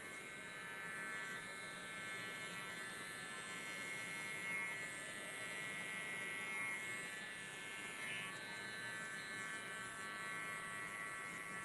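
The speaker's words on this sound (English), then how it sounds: "we like to do our tapers and stuff with clipper over comb" Electric hair clippers with a guard attachment buzz steadily and close up while tapering hair, a continuous even drone lasting throughout with no speech.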